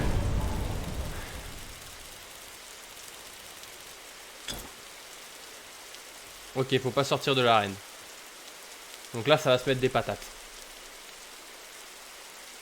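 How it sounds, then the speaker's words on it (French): Steady rain hiss in a Squid Game Roblox soundscape, constant and soft, with someone talking briefly in two bursts over it. "Ah, il y a la pluie."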